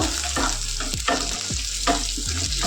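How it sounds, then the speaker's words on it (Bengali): Black cumin and green chilies frying with onions in a pan, a steady loud sizzle broken by several scraping stirs of a utensil, close up, with no talking. "এবার কালো জিরেটা লঙ্কাটাকেও আমি পেঁয়াজের সাথে একটু ভেজে নেব"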